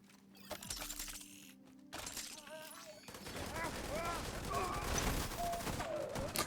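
A video game turret fires a fast, continuous stream of clicking shots that builds and stays steady, mixed with game tones and effects.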